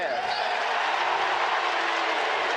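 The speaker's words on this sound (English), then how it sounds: "you can hear the crowd, the Gopher fans down in front of us cheering" Minnesota Gopher football fans cheering in a stadium at a college bowl game against New Mexico, a dense, sustained roar of crowd noise that holds steady throughout.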